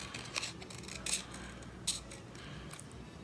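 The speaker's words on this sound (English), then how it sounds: "So we're just gonna cut around the edge on this one." Scissors snip around the edge of a paper gnome cutout, a few faint, separate crisp cuts spaced apart over a soft, quiet background.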